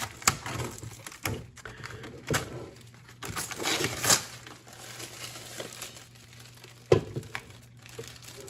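A Tefal Family Day 24 cm frying pan with lid being unpacked, with crinkling and rustling of packaging in irregular bursts, a few sharper taps and handling knocks over a steady low hum.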